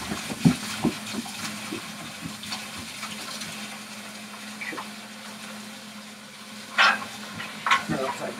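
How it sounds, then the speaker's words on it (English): Water runs into and splashes around a hot cooking pot to cool it and loosen stuck-on residue, a steady wash of liquid noise broken by a few sharper clatters and splashes near the end. "just cool it down a little bit with some water"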